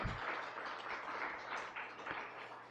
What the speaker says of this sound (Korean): 우리 박수로 축하드리겠습니다